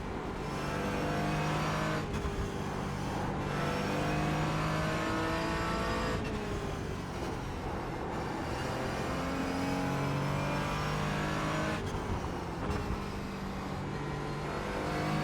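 A Porsche Cayman GT4 engine in the iRacing sim on the Nordschleife, revving steadily and loudly, with pitch that climbs and drops through repeated gear changes and no voices over it.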